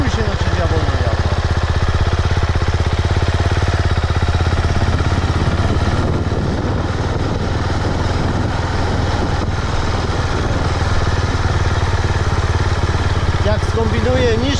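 A motorcycle engine revs and accelerates close by, giving a loud, continuous rumble that builds and shifts over time.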